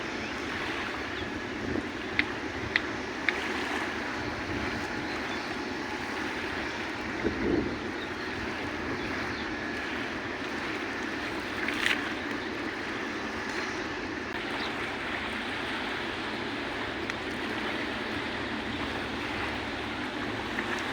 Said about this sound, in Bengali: সুন্দর ঢেউ আসতেছে এখানে